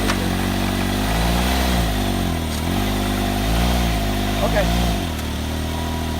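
A Can-Am Maverick X3 UTV engine in low gear pulls forward slowly in sand dunes, a steady close rumble with slight rising and falling pitch while someone speaks briefly over it.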